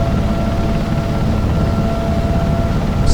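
Sikorsky Sea King SH-3 helicopter in the X-Plane flight simulator, a loud continuous rotor and turbine drone with a steady low rhythmic thudding and a faint high whine, heard close and unbroken.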